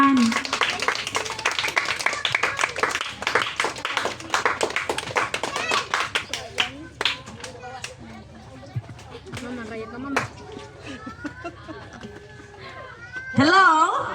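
Crowd of schoolchildren and teachers clapping at a school event, a dense burst of hand claps that thins into scattered claps, with talk and cheering voices over it.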